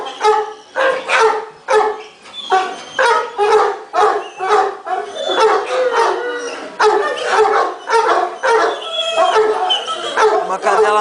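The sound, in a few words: dog barking, older female molosser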